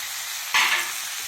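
Mushrooms fry in a pan as they are stirred, a soft sizzle with one brief louder hiss of stirring in the middle.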